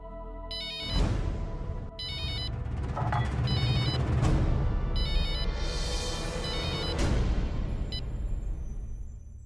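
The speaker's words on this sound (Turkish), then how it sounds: "Çalıyor işte." A mobile phone ringtone ringing in a Hindi drama scene, a repeating electronic melody in bursts over a busy musical background, fairly loud and steady.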